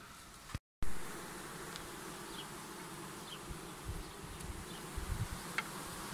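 Bees from a wild swarm found in August buzz in a steady, dense drone close at hand, with individual bees flying past now and then. A brief dropout comes near the start.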